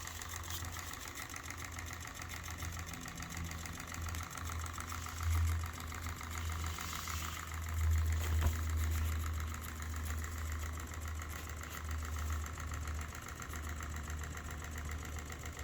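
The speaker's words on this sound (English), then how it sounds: "Interesting little engine." A PM Research Rider-Ericsson scale model hot air pumping engine runs steadily with a low rhythmic chugging hum and light mechanical ticking, close by and unbroken, with no talk.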